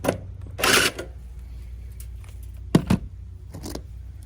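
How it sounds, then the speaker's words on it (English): A power driver runs a zip screw into an aluminum gutter guard, with short whirring bursts and sharp clicks of metal contact separated by quiet gaps, close by. "Zip screw this down."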